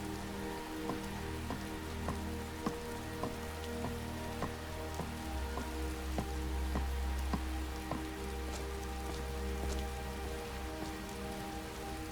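Rain in the Skyrim video game falls steadily as an even hiss with dense patter, accompanied by a faint repeating tick and a low hum, continuous and uninterrupted.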